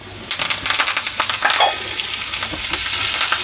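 Asafoetida, dried red chillies and curry leaves crackle in hot oil as a tempering for tomato chutney, close and loud, with a burst of sharp pops and spits at the start that settles into a steadier sizzle.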